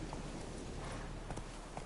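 Roach, the horse in The Witcher 3, gallops in a rapid, steady clip-clop of hooves, close and moderately quiet, with no talking.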